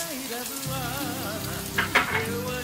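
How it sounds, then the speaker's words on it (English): Chopped onions hit warm oil in a pan and set off a steady sizzle and crackle, with a brief louder burst of spatter near the end. "now you're going to add the onions here"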